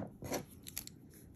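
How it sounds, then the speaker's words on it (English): Cutters snip off the wire end of a beaded wire rose bracelet, a quiet close crisp cut followed by faint small clicks. "I'm gonna take this little end and I'm just gonna trim it off"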